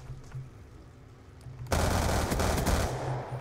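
An automated sentry gun in Black Ops 2 opens up abruptly after a quiet stretch, sustained rapid loud fire continuing to the end.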